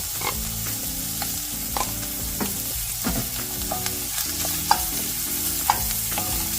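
Ginger, garlic and hot chili frying in rendered pork fat in a pan, a loud continuous sizzle broken by repeated rhythmic spatula scrapes and knocks, close up with no speech.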